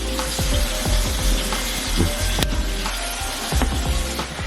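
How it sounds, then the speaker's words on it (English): Steady loud sizzling of ground meat seasoned with paprika frying in a hot pan, with crackles and occasional clicks of a utensil scraping, no voices. "You hear that sizzle?"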